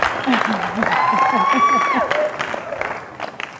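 Audience applause at a live coaching talk, a steady crowd clapping with some cheering throughout, while a speaker's voice rides over it.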